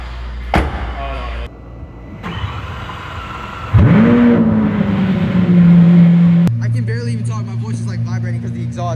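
A Lamborghini Revuelto engine revs up sharply and holds a loud, throaty exhaust drone, with a door thud near the start and a voice speaking briefly.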